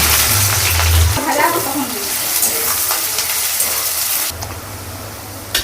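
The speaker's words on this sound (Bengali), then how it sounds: "এবার তেল গরমের মধ্যে আমি পেঁয়াজ দিয়ে দিচ্ছি" Onions sizzling as they hit hot oil in a wok, a steady close hiss and crackle running throughout, with a brief stir partway through.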